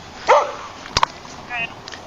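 A dog gives a short bark and a couple of brief yips amid a tense scene with people talking and a sharp sudden bang nearby.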